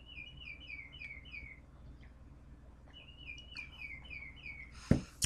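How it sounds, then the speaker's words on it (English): A bird clock gives off repeated electronic chirping bird calls in quick descending series, two bursts of tweets separated by a short pause, fairly faint indoors, followed by a sudden sharp knock near the end. "it's just my bird clock, y'all. If y'all hear that chirping"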